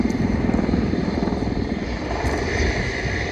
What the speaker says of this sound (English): as the Hind patrols overhead